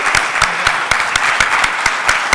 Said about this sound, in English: Round of applause for our awesome presenters today